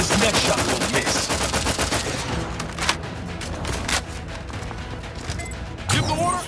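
Gunshots in the role-playing shooter The Outer Worlds 2 crackle through a dense, noisy mix of sharp repeated reports and impacts, loud and continuous, with a voice speaking over them.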